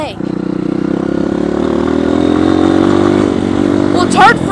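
A dirt bike engine revs on a trail ride, a loud close steady drone that swells slightly, with a brief voice breaking in near the end.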